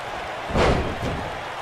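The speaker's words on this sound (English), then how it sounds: "Carlos slams Keith down to the mat." In the WWE 2K19 wrestling video game, one wrestler slams another onto the mat, making a single heavy thud with a short rumbling tail against a steady crowd-like backdrop.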